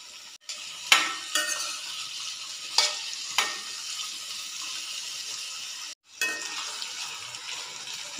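Potato pieces and vegetables are stirred in hot frying oil, with a bright continuous sizzle broken by several sharp scraping strokes and two brief drops to near silence, close up and without speech.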